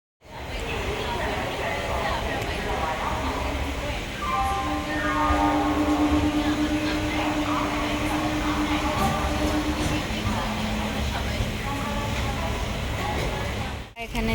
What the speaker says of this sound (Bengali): এই যে ট্রেন ছেড়ে দিল